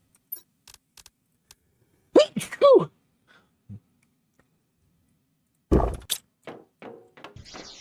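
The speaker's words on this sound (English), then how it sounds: "I'm gonna sneeze." A person lets out one sudden, loud, close sneeze after a few soft breaths and vocal noises, followed by quieter voiced sounds.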